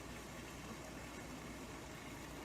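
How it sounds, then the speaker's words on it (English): A swimming pool pump motor runs with a steady, faint low hum and broadband hiss, unchanging across the short stretch, with no voices over it. "You can probably hear the sound of the pool engine."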